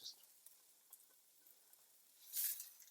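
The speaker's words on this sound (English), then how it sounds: "Really just sauteing the onions and garlic." Onions and garlic sauteing in a hot pan for Mexican-style rice give a faint, steady sizzle with light crackles and one brief louder hiss near the end.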